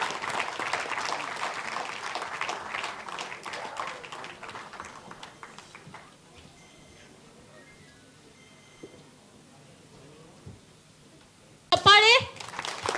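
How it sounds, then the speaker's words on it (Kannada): An audience gives a short burst of applause at the end of a Kannada film press meet. Before it comes a long stretch of a voice speaking on a microphone, then a quiet pause. "ಸ್ವಲ್ಪ ಚಪ್ಪಾಳೆ ಇರಲಿ, ಸ್ವಲ್ಪ ವೆಲ್ಕಮಿಂಗ್ ಫೀಲ್ ಕೊಡ್ಬೇಕಲ್ವಾ?"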